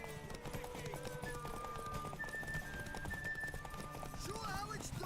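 Horse hooves clopping along with a whinny from The Witcher 3, set under continuous game music and speech, the hoofbeats steady but partly buried in the mix.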